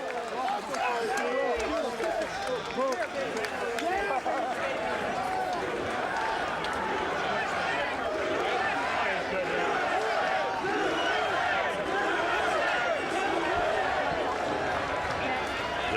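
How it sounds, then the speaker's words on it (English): Boxing arena crowd chanting and cheering continuously after Jeff Lacy's world title win, a dense loud roar of many voices with rhythmic chant swells, an announcer talking over it. "The chants of USA from the crowd here, celebrating Jeff Lacy's victory"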